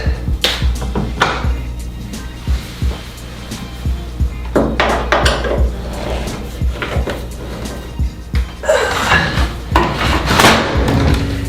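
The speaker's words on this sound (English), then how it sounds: "There's a couple more screws back here, so let me take care of those." Screws are undone at the back of a washing machine, heard as irregular close clanks, taps and knocks of tools against metal and panels, with bursts of scraping and rattling, no talk.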